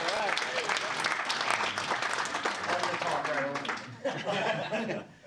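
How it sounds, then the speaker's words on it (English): A crowd at a convention opening ceremony claps and cheers continuously, with some laughter mixed in, the applause fading slightly near the end. "He didn't get a round of applause, come on."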